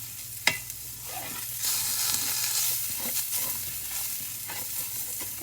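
Quinoa and vegetables browning in a pan over medium-high heat give a steady, close frying sizzle with occasional stirring scrapes, carrying on without any talk.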